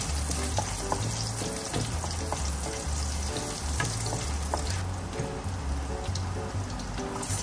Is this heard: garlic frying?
yes